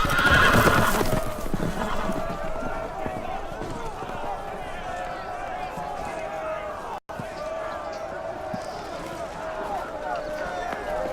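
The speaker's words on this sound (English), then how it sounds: "The horses! They're loose!" Loose horses whinny loudly and hooves clatter in a fast gallop, with shouting voices mixed in over the commotion.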